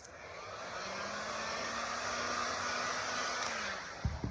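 Heat gun blowing hot air over a sticker on a motorcycle helmet, a steady close whooshing roar with a faint tonal whine, held for about four seconds before a couple of small knocks.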